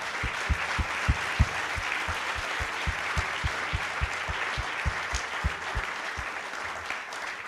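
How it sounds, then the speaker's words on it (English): An audience applauds steadily at a live symposium celebrating AUB's 150th anniversary. Dense, sustained clapping from a crowd fills the room, with some heavier thumps mixed in, and no voices break through. "Please, a round of applause."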